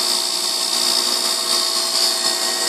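An Emco Compact 5 CNC lathe spindle runs steadily while machining a model engine backplate, a continuous close whine and hum with no breaks or voices.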